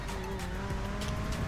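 Race car in GTA Online stunt race driving hard along a twisting tunnel and dirt mountain track, steady engine drone with tire squeal and skidding throughout, close and continuous.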